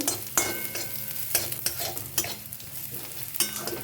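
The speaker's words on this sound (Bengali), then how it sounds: "রসুন আর পেঁয়াজটা হালকা একটু ভাজা হয়ে গেলে তুলে নেব" Chopped garlic and onion fry in hot oil left over from frying paneer, a steady close sizzle broken by several sharp stirring scrapes of a utensil against the pan.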